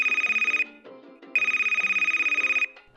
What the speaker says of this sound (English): 45 minutes later, the phone rings.